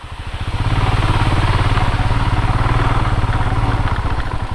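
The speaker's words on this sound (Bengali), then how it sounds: "ঢিকচিক ঢিকাং করছে ভাই বাইকটা।" A motorcycle rumbles and rattles over a rough, dug-up road on a mountain pass trip, its close, loud engine putting out a rapid pulsing beat with clattering on top, rising in from the start and holding steady.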